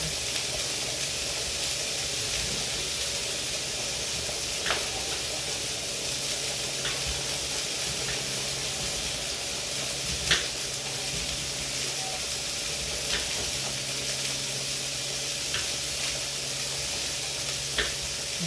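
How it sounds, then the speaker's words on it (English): Hamburger steaks sizzle in a skillet with a dense, continuous frying hiss close by, steady throughout with a few faint pops and clicks, and no talking over it. "throw these in the skillet once the hamburger steaks are close to being done"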